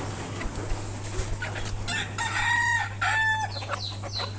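A rooster and a hen sit in a cage on a small poultry farm; the bird calls and clucks close by over a steady low electrical hum, with a louder drawn-out call in the middle.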